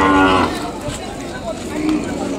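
Ongole bulls at a busy cattle market in Kodada, with a clear moo standing out loudly at the start over a steady crowd murmur.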